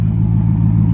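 Loud, steady exhaust drone from a Chrysler 300S V8 fitted with Hellcat exhaust, mid muffler delete, rear mufflers removed and performance mufflers, revving hard and close for a second with a deep pulsing rumble.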